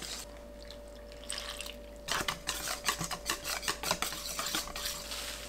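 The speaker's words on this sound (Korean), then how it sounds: "밀가루 3큰술, 튀김가루 3큰술, 물 300ml 넣고 반죽 만듭니다" A batter of flour, frying mix and water is stirred in a bowl, starting with soft scraping and turning into quicker, wetter swishing strokes, all faint and close with no voices.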